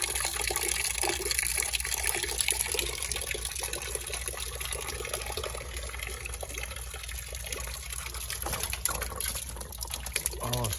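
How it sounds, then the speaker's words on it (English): Water rushes hard through a plumbing valve and pipe, a loud, steady hiss and gush that fills the whole stretch, with faint bursts of background voices. "With that much water coming through it."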